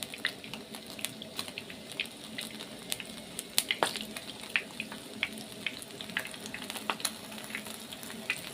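Sausages fry in a pan with a steady, quiet sizzle and scattered crackles and pops, with no voices over it.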